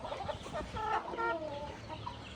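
Chickens on a small farm cluck in a quick, close run of short calls. The flock sounds near and moderately loud over a faint background hum.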